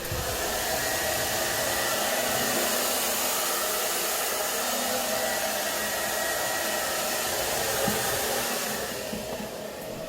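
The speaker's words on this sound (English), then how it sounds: "Just a quick hit with the blow dryer to kind of blend it all together" Hair being blow-dried, the dryer running close and steady with a constant airy whoosh and motor whine for about ten seconds, dipping slightly near the end, with no speech.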